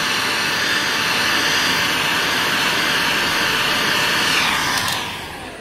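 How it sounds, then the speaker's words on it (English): A heat gun blows hot air onto a bendy mould appliqué to soften it, giving a steady, loud, close whooshing roar that holds evenly before tapering off at the end. "So excuse the noise of the dryer, the heat gun."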